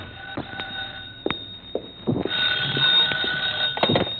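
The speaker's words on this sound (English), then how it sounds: "My phone was ringing when I got there." A telephone rings in an apartment as a radio drama effect, sharp repeated bell rings over a steady tone, close and clear, with no talk.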